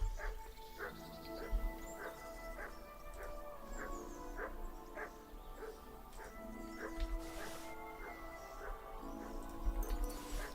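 In Kingdom Come: Deliverance II the dog Mutt keeps barking and yipping, the repeated sharp barks spread through the stretch over a layered background of game music and ambience.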